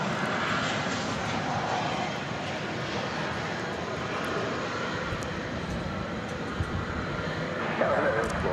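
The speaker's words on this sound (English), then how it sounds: "we got a plane on final from Austin, Texas" A Boeing 737-800 airliner on final approach into DFW Airport gives a steady, fairly faint jet roar that holds evenly throughout, heard from a distance with no talk over it.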